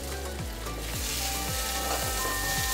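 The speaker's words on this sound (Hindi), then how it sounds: "और चलाते हुए मावा को 1-2 मिनट भून लेंगे।" Mawa (khoya) frying in hot ghee in a pan, a loud continuous sizzle with regular scraping thumps from a spoon stirring about twice a second.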